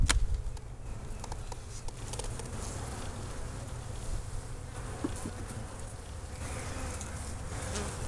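Honey bees buzzing around an open 18-frame horizontal hive during a spring inspection, a dense continuous drone close by with individual bees whining past, no talking.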